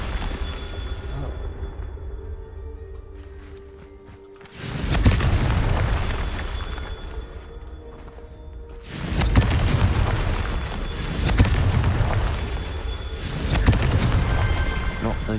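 Confringo spell explosions in the video game Hogwarts Legacy go off as a series of deep, loud booms, roughly four blasts spaced a few seconds apart, each with a rumbling tail.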